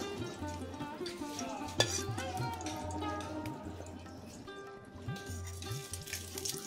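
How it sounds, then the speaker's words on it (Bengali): Dried red chili frying in hot oil in a pan, a steady close sizzle with crackles and a few stirring scrapes, moderately quiet, with no one speaking. "তো আমি লঙ্কাটা একটু ভেজে আমি নেব একটু।"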